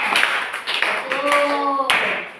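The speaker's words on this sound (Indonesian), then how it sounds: "tepuk tangan untuk Nona Rahel." Classroom applause for a student: a short burst of clapping and tapping from a group, close and lively, with a voice speaking over it.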